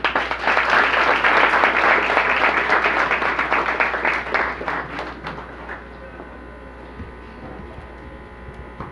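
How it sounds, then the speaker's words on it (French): A crowd applauds loudly and steadily for several seconds, then the clapping gradually fades to a quieter room murmur. "Que vous applaudissez, mesdames et messieurs."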